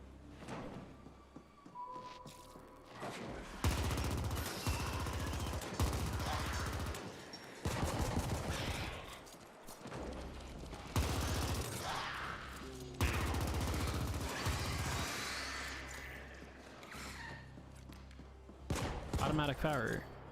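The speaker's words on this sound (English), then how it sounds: "Automatic fire is much nicer." Rapid automatic weapon fire in the cyberpunk shooter The Ascent, loud bursts of gunshots repeating in stretches across the scene, broken by short pauses, with other game sounds between bursts.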